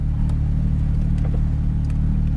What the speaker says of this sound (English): because this car is very loud and otherwise it'll be very hard to hear me